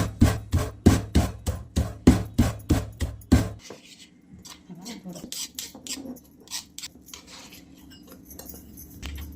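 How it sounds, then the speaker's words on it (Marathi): Rhythmic pounding of capsicum (shimla mirch) with salt in a hand mortar and pestle, about a dozen sharp, steady strikes up close, then quieter scraping and shuffling as the crushing stops. "त्यासाठी मी कुटूनच घेतले, मी मिक्सरमध्ये नाही बारीक केलं"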